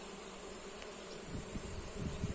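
Honeybees buzzing steadily nearby during honey harvesting, a continuous hum with individual insects droning closer at moments.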